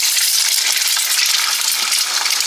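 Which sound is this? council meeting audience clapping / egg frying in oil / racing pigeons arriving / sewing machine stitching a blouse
egg frying in oil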